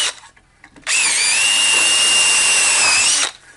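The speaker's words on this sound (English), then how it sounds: "Now I'll re-pilot hole through these screw holes." A power drill re-drills pilot holes through screw holes in the wooden legs of a garden obelisk trellis, one steady high whine of about two and a half seconds, loud and close, starting and stopping abruptly.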